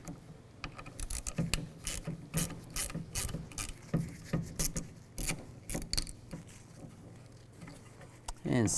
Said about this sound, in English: Now I'm going to use a T15 socket and take these screws out.